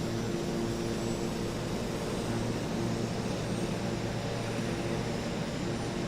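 Piaggio P-180 Avanti turboprop spooling up during engine start in Microsoft Flight Simulator 2024, a steady, loud broadband whine and rumble with constant tonal hum, unchanging throughout.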